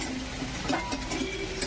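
Onion and tomato frying in a little oil in a kadai, a steady close sizzle with light stirring scrapes throughout.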